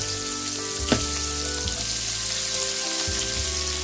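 Onions frying in hot oil for a snail curry give a steady, dense sizzle that carries through the whole stretch, with a few soft stirring knocks and no voices.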